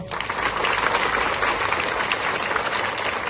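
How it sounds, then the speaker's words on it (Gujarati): Children at a school welcome festival in Godhra clap hard with both hands, a thick, continuous wash of clapping that holds steady from start to finish. "ચલો બંને હાથથી જોરદાર તાળી પાડો"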